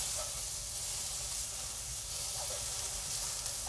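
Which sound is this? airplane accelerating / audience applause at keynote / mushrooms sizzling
mushrooms sizzling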